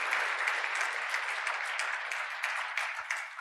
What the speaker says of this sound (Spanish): Un aplauso para el diputado Joaquín Melgarejo.